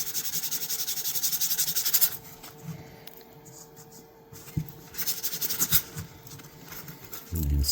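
Light back-and-forth sanding on a vintage Sabre Slimline knife, a close, soft abrasive rubbing that is strong for the first two seconds, then quieter with intermittent strokes and a few small knocks.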